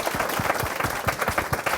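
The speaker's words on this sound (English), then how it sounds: "didn't get a round of applause for that, did he?" Brief, dense round of audience applause with many hands clapping together at steady volume throughout.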